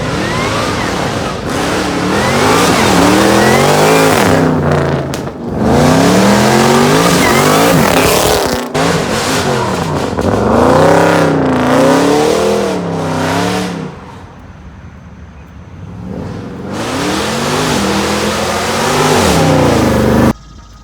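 A 5.7L all-wheel-drive car accelerates hard and slides sideways, its engine loudly revving in repeated rising and falling sweeps with tire noise, broken by a few brief pauses and a quieter idle stretch.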